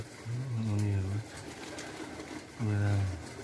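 Pigeons coo nearby outdoors: two deep, mellow coos about two and a half seconds apart, each rising and holding before dropping off, over a quiet background.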